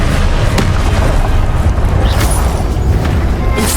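A Confringo fire-blast spell from Hogwarts Legacy erupts in a loud, booming burst amid a thick roar of battle noise, with a couple of sharp cracks standing out.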